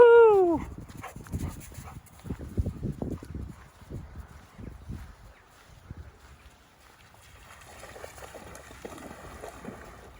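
Dogs give a brief high whimper, then scattered soft barks and yips follow at moderate distance, fading to quiet background noise.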